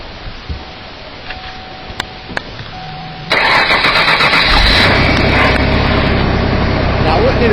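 A car engine cranks and catches after a jump start with jumper cables on a snowy day. A few clicks come first, then the engine bursts into a loud, steady idle close by.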